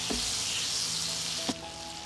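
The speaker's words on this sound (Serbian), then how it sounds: "U tiganj dodajem puter i sačekat ću da se puter istopi." Butter melts in a hot frying pan, giving a steady, close, even sizzle throughout, with a faint clink partway through.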